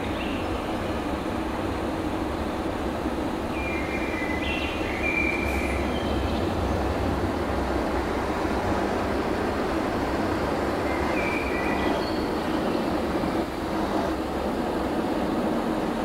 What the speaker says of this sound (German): Und dann fahren wir Straßenbahn.